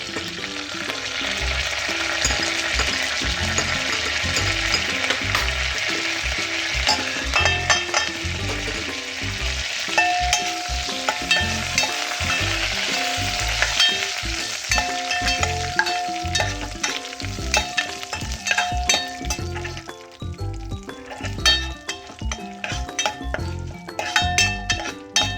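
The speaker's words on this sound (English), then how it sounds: "Now that the cumin seeds, red chilies and curry leaves are fried" Cumin seeds, red chilies and curry leaves fry in hot oil with a continuous sizzle and crackle, joined by frequent spatula stirs and metallic clinks of utensils against the pan, sounding close, with no talking.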